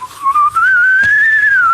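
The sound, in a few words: person whistling an imitation of a UFO sound effect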